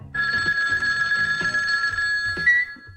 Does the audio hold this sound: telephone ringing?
yes